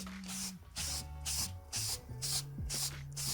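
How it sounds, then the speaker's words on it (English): Rhythmic scratchy rubbing strokes of a wire wool brush and sandpaper on wood, close and repeated in quick back-and-forth passes. "use a wire wool brush and then sand it"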